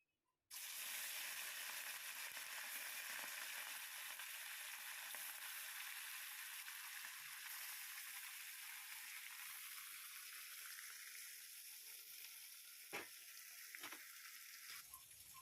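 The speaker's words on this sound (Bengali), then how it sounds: "গরম হয়ে গেছে, মাছ দিয়ে দেবো।" Fish in a Bengali kitchen hits hot oil with a sudden loud sizzle that settles into a steady, dense crackling fry lasting throughout, with a few sharp pops near the end and no talking.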